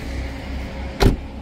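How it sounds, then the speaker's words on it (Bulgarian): Front electric windows of a 1.6 petrol 110 hp Nissan Micra give one short motor whirr about a second long, over the car's steady low running hum. "Ел стъкла отпред."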